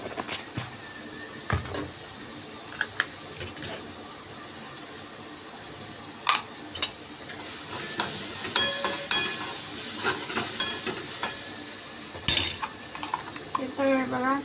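Kadhi being made in a home kitchen: turmeric frying and sizzling in a pan while a spoon stirs and scrapes, with clinks and louder bursts of sizzle building through the second half.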